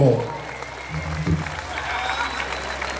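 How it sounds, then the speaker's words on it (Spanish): Audience applause breaks out at a Oaxaca show pitting a group of warriors against three livestock ranches, a steady crowd clapping after the announcer's low voice trails off, with a few louder claps around the middle. "¡Fuerte el aplauso!"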